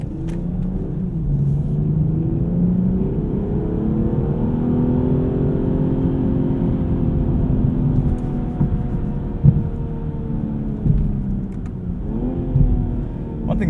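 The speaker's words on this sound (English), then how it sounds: "This 840 just eats up speed and road like nobody's business." A 2020 BMW 840i xDrive Gran Coupe accelerating on the road, engine note rising in a smooth sustained rumble through gears from inside the cabin, with tire and road roar underneath and no talking.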